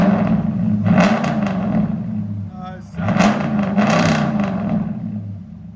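Jeep Grand Cherokee 5.7L HEMI V8 with Flowmaster Outlaw exhaust and 6-inch tips revving, two loud, roaring pulls with a brief dip between, close to the exhaust.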